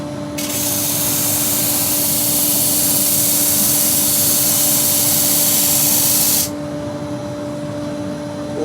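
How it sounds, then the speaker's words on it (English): Wood being sanded on a spinning lathe while turning a clock insert, a loud continuous hissing rasp that holds steady for about six seconds before cutting off, leaving the lower hum of the running lathe. "You can alter it as you're sanding."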